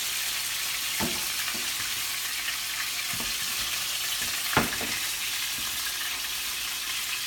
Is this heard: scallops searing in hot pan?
yes